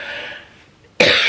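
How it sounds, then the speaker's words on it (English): A single sharp, close cough bursts out after a brief lull, loud and abrupt. "the talking's making me cough"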